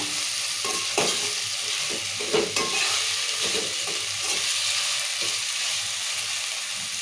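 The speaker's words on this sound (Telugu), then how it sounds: "ఇట్లా నూనెలో ఉడికించుకోవాలి కొత్తిమీర కూడా వేసి టమాటా కొంచెం వేసుకోవాలి" Tomatoes and coriander frying in oil for a village-style chicken curry, a steady broadband sizzle with scraping stirs throughout, close and continuous, with no talk.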